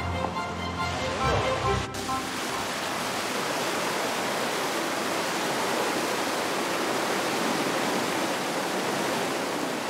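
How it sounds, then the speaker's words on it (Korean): River water spilling over a weir into an aeration and adsorption treatment facility, a steady, dense rushing roar that holds at an even level throughout, with a brief different sound in the opening two seconds. "지티제를 넘은 물이 폭기 흡착 수처리 시설로 들어옵니다"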